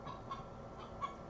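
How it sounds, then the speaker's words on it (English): A chicken clucks faintly in the background, with two brief soft calls at the start and near the end over low steady noise. "Shut up, chicken."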